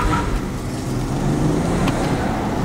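BMW X5 turbo driving hard, a steady loud engine and road roar heard from inside the car with no talk over it.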